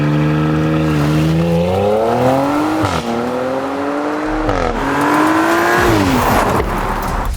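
A new-generation Audi RS3 engine revs loudly and up close, its pitch climbing through several rising pulls with brief dips between, a sustained throaty drive with some road rumble and no talking.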